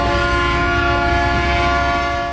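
A Florida East Coast freight train, number 336, rumbles steadily past with its horn sounding a loud sustained chord over the continuous roar of rolling wagons.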